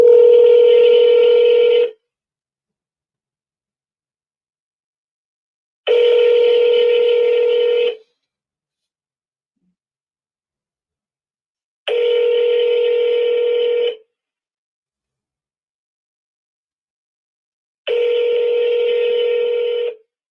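Telephone ringback tones on a call being forwarded to voicemail: four identical two-second electronic tone bursts, loud and evenly spaced with silent gaps between them and no talking.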